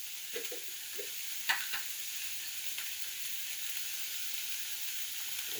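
Half an onion sizzles in a hot pan, a soft steady frying hiss with a few light scrapes and one brief knock as the pieces are stirred.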